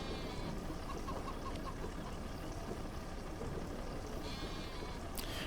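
Sheep bleat in a Farming Simulator 25 farm scene, a few faint calls over a constant low ambient wash, with a brief sharper bleat near the end.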